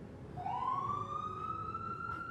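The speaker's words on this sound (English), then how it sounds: "We have plenty of fresh air and ambulance sirens going by here" An ambulance siren passes outside an open garage door, a single rising wail that holds steady over a constant background rumble of traffic, moderately close and clear.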